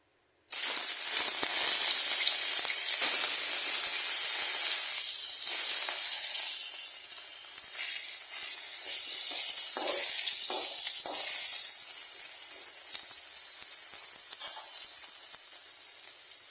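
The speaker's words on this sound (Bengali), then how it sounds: "তেল দিয়ে আগে আমি মাছগুলোকে ভাজা করে নেব।" Small fish fry in hot oil in a kitchen pan, a loud, steady, close sizzle that starts abruptly and continues unbroken.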